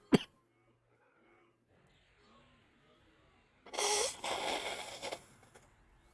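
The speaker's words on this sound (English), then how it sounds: "Sorry for blowing my nose on the stream" A person blows their nose in a forceful, noisy burst of a couple of seconds, close to the microphone, after a brief sharp sound and quiet moments.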